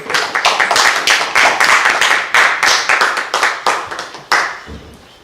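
An audience claps to greet a moderator at a community gathering, loud, close hand claps in a fast, uneven burst lasting about five seconds before tapering off.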